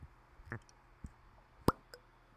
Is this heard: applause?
no